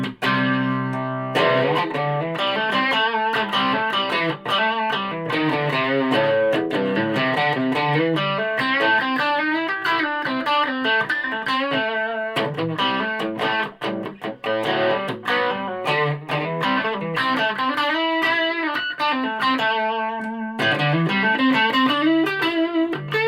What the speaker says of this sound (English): Using my super pedal, I'm going to put it into the gain channel, which I've got set just for a little bit more gain.